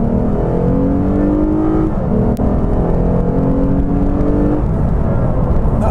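A 2015 Lexus RC 350 F Sport in Sport Plus mode accelerates hard at full throttle on a highway, its engine note climbing steadily through rising revs with a brief shift break, loud and continuous from inside the cabin.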